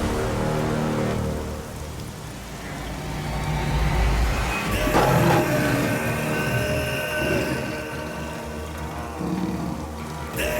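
Rain pours down steadily on a surface, a dense, loud hiss that swells midway with a heavy rumbling wash beneath it.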